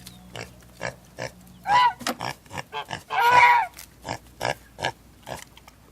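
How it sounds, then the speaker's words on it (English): A pig grunts and oinks in a series of short snorty bursts, with two louder squealing grunts standing out, while it splashes in its water trough outdoors; the sounds are close and clear. "You silly pig, you."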